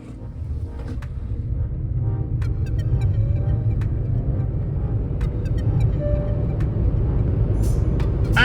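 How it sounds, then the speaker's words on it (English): A Kia Carens Clavis EV accelerating hard from 0 to 100 in sports mode, heard from inside the cabin as a steady low road and motor rumble that builds and holds loud throughout, with faint higher whine tones. "let's check the 0 to 100 of this car. We are in sports mode, so let's do it."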